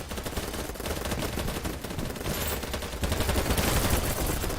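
Rifle gunfire in BattleBit Remastered rattles in dense, continuous automatic bursts, loud and close, with overlapping shots and battle noise filling the whole stretch.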